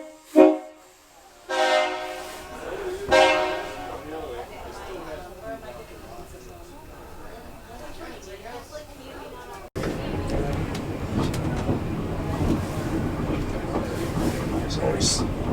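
Museum electric rail car at the Michigan Transit Museum departing eastbound, with a horn blast near the start, then rising motor whine and rolling wheel noise growing louder and rougher as it gets underway, close by.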